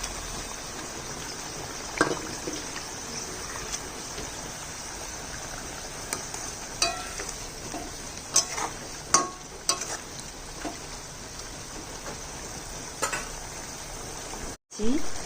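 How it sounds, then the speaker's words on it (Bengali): Flour fritters go into bubbling curry gravy, a soft steady simmering hiss with scattered clinks and spoon taps, under light background noise. "ঝোল ফুটে গেছে, এবার দিয়ে দিচ্ছি ময়দার এই বড়াগুলো।"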